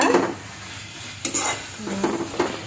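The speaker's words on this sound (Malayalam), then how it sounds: "തക്കാളിക്ക ചേർത്ത് ഇതിനെ വീണ്ടും നല്ലപോലെ വഴറ്റി വേവിക്കുക" Tomatoes stirred and sautéed in a pan while cooking prawn biryani, with a soft steady sizzle under intermittent scraping strokes of a spoon against the pan, close and moderately loud.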